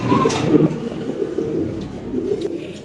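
A black Lahori pigeon for sale gives repeated low, throaty cooing calls, close and fairly loud, in a rhythmic series with no talk over it.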